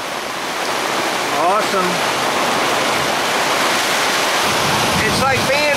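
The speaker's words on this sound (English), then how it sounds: "rain and winds. It is coming down, but this thing's rock solid." Torrential rain and strong wind pounding a carport during a bad storm, a loud, unbroken roar of rain and gusts, with someone speaking briefly over it.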